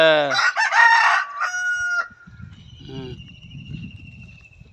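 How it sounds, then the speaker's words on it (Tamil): A fighting rooster crows loudly and close, followed by quieter clucking and soft scratching noises, with a faint high tone in the background. "சண்டை சேவலை"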